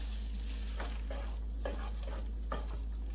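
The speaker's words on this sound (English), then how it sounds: "Your spaghetti should look like this. It's nice and covered with the oil, and like you can hear, it's cooking." Spaghetti coated in oil fries in a pan for Spanish-style spaghetti, giving a steady close sizzle broken by several soft scraping stirs.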